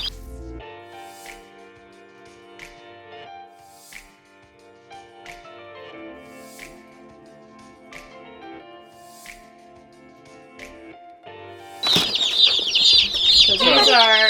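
Meat birds, Jumbo Cornish Cross chickens among a flock of nearly a hundred, cluck and peep steadily in a barn, with a louder burst of chattering and squawking near the end.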